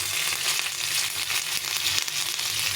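Curry leaves hit hot oil already frying cumin and black mustard seeds, a loud, dense, steady sizzle close by with faint crackles running throughout.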